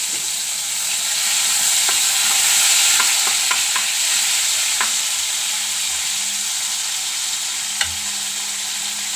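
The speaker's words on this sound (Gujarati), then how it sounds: "જે મસાલો આમાં કાઢ્યો એ બધું આમાં નાખી દેવું ગેસ થોડોક ધીમો રહે" Masala spices frying in a pan over low gas while brinjal, potato and tomato olo is made, a steady close crackling sizzle broken by several sharp scrapes of stirring and one louder clack near the end.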